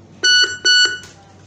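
An RV 971A burglar alarm for a bank ATM cabinet gives two short, clear electronic beeps in quick succession as it arms, then goes quiet.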